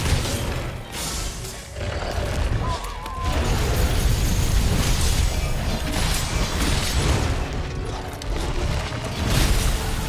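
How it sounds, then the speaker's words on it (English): Savage Deviljho's forward breath attack in Monster Hunter roars as a loud, dense, sustained blast of rumbling energy with grinding mechanical crackle, swelling and dipping over several seconds amid battle effects. "There's the forward breath attack."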